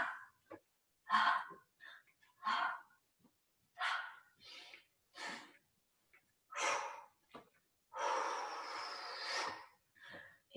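Breaths during a qigong exercise session, a series of about a dozen short, close, breathy exhales and snort-like puffs separated by silences, the last one longer and drawn out.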